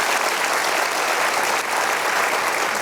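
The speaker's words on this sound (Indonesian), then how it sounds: "Luar biasa, kita berikan aplaus." An audience gives sustained applause, with many hands clapping in a thick, even wash that holds at a constant level from start to finish.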